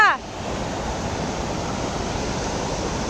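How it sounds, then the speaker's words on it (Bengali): Stream water at Rishi Khola rushes in a steady, loud broadband wash that holds evenly throughout, after a brief voice at the very start. "দেখো জলের স্রোত।"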